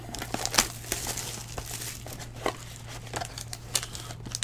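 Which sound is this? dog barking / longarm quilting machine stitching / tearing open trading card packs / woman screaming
tearing open trading card packs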